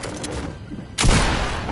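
Sniper rifle gunfire in Fortnite: a single sharp, loud shot cracks out after a short stretch of game ambience, followed by a sustained booming tail of echo.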